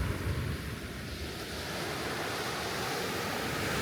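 Sea waves wash onto a beach beside a small fishing village near Muscat, Oman. The surf is a steady, soft broadband rush mixed with wind noise, distant and continuous, with no voices.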